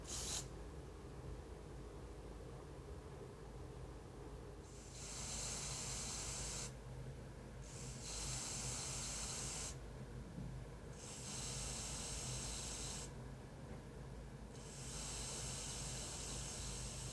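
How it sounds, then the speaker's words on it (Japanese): An aerosol spray can is emptied outdoors by pressing its button repeatedly: four long, loud, steady hissing bursts of several seconds each, separated by short pauses over a low background rumble. "スプレー缶のボタンを押し、中身を出し切るまで繰り返しましょう"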